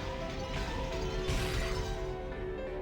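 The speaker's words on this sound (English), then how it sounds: "All over the mansion, there are loud beating sounds that might be called knocks and the sound of shattering glass" In a mansion in the Umineko video game, a crashing, smashing burst swells near the middle over a steady tonal background, suggesting heavy beating and shattering glass. It is moderately loud, with no voices.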